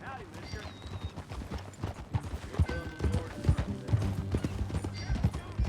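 Horse hooves clip-clop steadily in Red Dead Redemption 2 as a rider moves along, the rhythmic footfalls getting louder and denser over several seconds with no one speaking.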